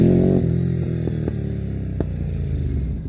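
A Ducati Monster 937 fitted with Termignoni slip-on exhausts, its engine holding a deep, throbby idle with a few sharp pops and blips, loud and close and steady with no voices.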